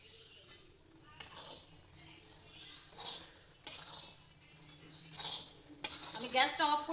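Dry-roasted spices are stirred into a sweet-sour jujube pickle in a pan with the gas switched off, producing intermittent metallic clinks and scrapes of a utensil against the pan, close and moderately loud.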